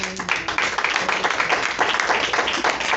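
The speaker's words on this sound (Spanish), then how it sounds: "Den un aplauso, Señor" A church congregation claps and applauds, a dense continuous patter of many hands filling the room at close to moderate distance, with a brief voice at the very start.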